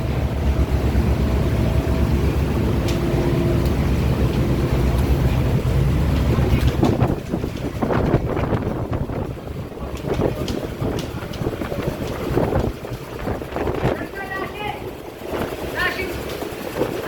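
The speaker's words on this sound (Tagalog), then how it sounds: "Ang lakas ng alon." Strong sea waves slosh and crash around a boat on a southbound ride, with loud steady wind and engine rumble at first, then choppier splashing bursts as people talk throughout.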